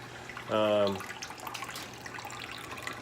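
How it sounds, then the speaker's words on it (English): Water trickles and splashes steadily as hot water sparges through malted grain in a home beer brewing setup, with a brief tonal, voice-like burst near the start. "got a decent sparge going on"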